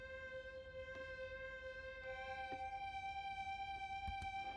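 Astral Forms sax organ plugin with chorus and EQ, standing in for a tapped guitar part: sustained, bright organ-like tones that shift pitch with soft tapped attacks, played alone and fairly quiet.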